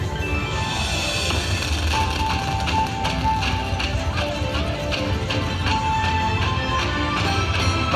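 Spinning reels on a Mighty Cash Xtra Reel slot machine fill a busy casino floor with steady chiming electronic tones and repeated tapping, a continuous dense wash of game music with no pauses.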